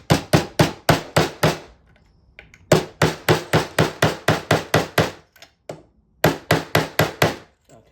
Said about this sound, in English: This is a 22-ounce hammer.